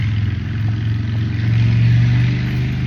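A motorcycle engine passing nearby: a steady, loud mid-pitched drone that swells and holds close for a few seconds, with no talking over it.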